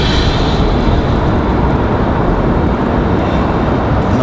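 A United Airbus A319 bound for Newark sits at the end of the runway at Raleigh-Durham airport at night, its engines a loud, steady broadband roar that holds unchanged throughout.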